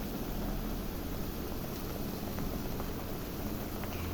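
Ground tomato, onion and chili paste frying in a pan, a steady broadband sizzle and hiss that stays even and moderately close, with no voices over it.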